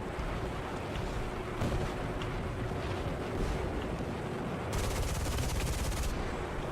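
Rapid jet cannon fire in an air combat video game, a dense continuous rattle under steady engine roar, with a sharper burst of shots near the end.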